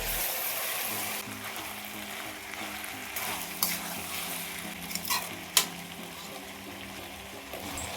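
Chopped tomatoes hit a pan and are stirred into the frying vangi bath base, a steady broadband sizzle running throughout with a few louder scraping clacks of the spoon near the end.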